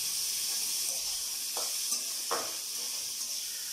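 Onions sauté with a pinch of asafoetida in a pan, a constant bright sizzle broken by two or three soft stirring scrapes, close and alone without talk.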